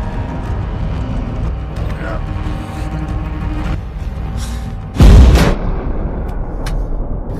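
Tank gunfire in the film T-34: rumbling battle ambience with mechanical clanking, then one loud, sharp cannon blast near the middle, fading back into the low rumble.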